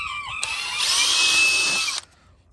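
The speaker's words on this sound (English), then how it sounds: "we're just gonna drill us a pilot hole" Power drill boring a pilot hole into wood for a cheap DIY planter box, a steady close whine rising in pitch and holding for about a second and a half before cutting off.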